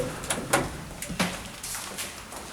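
Elevator doors closing on a 2020 lift at Pańska 61 in Warsaw, a few short thuds and sliding clunks, fairly quiet and close, with no talk over them.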